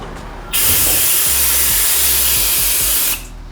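An opened brake bleeder on the caliper of a 2023 BMW S 1000 RR motorcycle gives a loud, steady hiss lasting about two and a half seconds, with a low mechanical hum beneath it, then cuts off.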